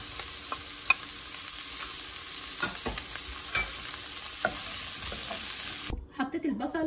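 Onion, garlic, pepper and tomato frying in a pan for a calamari tagine, a dense close sizzle with intermittent stirring clicks, ending in a quieter stretch with brief softer sounds.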